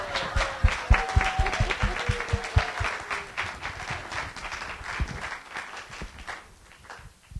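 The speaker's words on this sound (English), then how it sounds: "let's all clap that we're there" Audience applause at a seminary gathering, a modest crowd clapping steadily and fairly close before it thins out and fades over several seconds.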